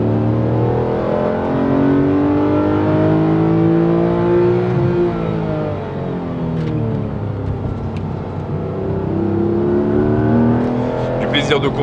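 A Porsche RS sports car, a Paint To Sample example, drives through corners, its engine droning loud and close with pitch sweeping up and down as it accelerates and eases off, a steady continuous roar throughout.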